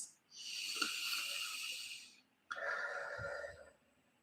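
Two long, slow breaths, one after the other, drawn in deeply and then let out, close and soft with no talking, as before eating a meal.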